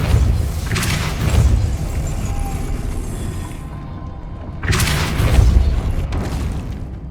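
Depulso spell blast in the Hogwarts Legacy video game, two loud booming whooshes with a heavy low thud, separated by a brief quieter gap, with no voice over them.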